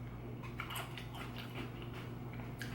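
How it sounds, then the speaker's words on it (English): Crunchy Oreo O's cookies-and-cream cereal bitten and chewed up close, a run of crisp crackling bites over a steady low hum, with no talking. "This is my last bite of 4 Oreo O's."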